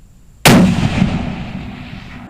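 A Seekins rifle fired once without a muzzle brake: a single sharp, loud close-range report with a long rumbling decay fading over about two seconds, with no speech.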